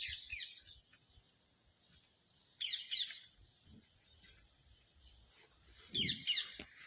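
Birds calling outdoors in three short bursts of bright, quick chirps, separated by quiet pauses with faint background noise, at moderate distance.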